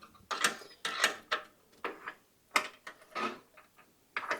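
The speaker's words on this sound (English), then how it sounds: "This bolt here, this little pin, it's a 13 millimeter. Let's loosen that up." A ratchet wrench loosens a 13 mm bolt on an Indian Springfield motorcycle, giving a series of close, loud clicking bursts in an uneven rhythm with short pauses between strokes.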